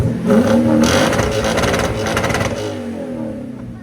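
A 2008 Lexus IS F with a 5.0L V8 and muffler delete revs hard toward redline: a loud, close, raspy burst that swells, holds briefly and then falls away.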